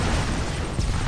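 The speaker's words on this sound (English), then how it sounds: "Nuclear explosion detected." A nuclear explosion in C&C 3: Kane's Wrath rolls out as a loud, sustained deep rumble with broadband roar, swelling slightly near the end, steady throughout with no pauses.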